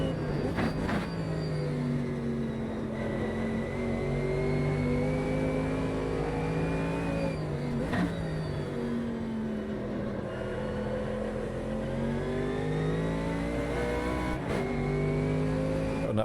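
Simulated GT race car in Automobilista 2 at the Nürburgring, with a constant engine drone and a thin whine rising and falling through the gear changes, steady and loud throughout.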